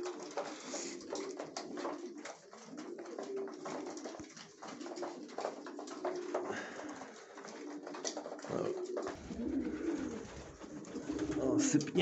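Pigeons cooing in a loft on a frosty winter day, soft coos under scattered rustling and clatter, with a person talking at moments.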